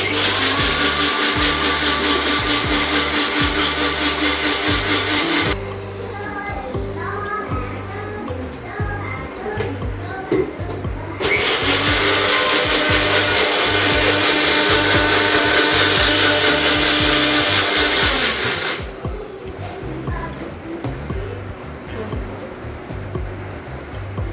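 A mixer grinder blends dhokla (khaman) batter with a loud, continuous whirring roar that runs in long bursts and shifts pitch between them.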